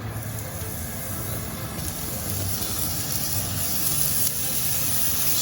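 Shrimp laid into hot olive oil for blackened shrimp, giving a continuous broad sizzle and hiss over a low background hum, steady and fairly loud throughout.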